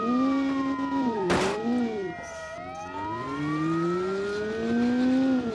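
A wailing police car siren from BeamNG.drive rises and falls in sweeping tones alongside a revving car engine, loud and continuous, with a sharp crash-like burst partway through.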